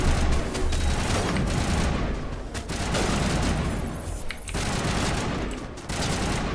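Dense gunfire from Mass Effect combat, a near, loud continuous stream of rapid shots and impacts with brief dips, no talk over it.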